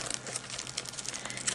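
Soft crinkling and rustling of plastic sticker packs, close by, with small irregular crackles as they are shuffled and sorted.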